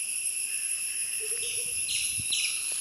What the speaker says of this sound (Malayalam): ചീവീടുകൾ മാത്രമല്ല, ഒരുപാട് വേറെ പക്ഷികളൊക്കെ ഇവിടെ നിൽക്കുന്നുണ്ട് കേട്ടോ